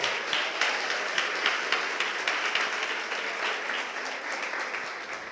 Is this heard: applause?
yes